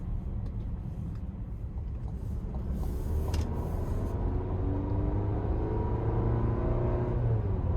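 A 2026 Chevy Traverse RS AWD accelerating on the road, its engine hum and drone rising steadily under constant road rumble from inside the cabin, with a brief creak partway through and no talking.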